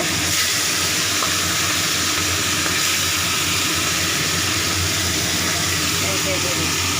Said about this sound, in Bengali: ভালো করে মাছের মুড়ো তেল দিয়ে ভালো করে ভেজে নিচ্ছি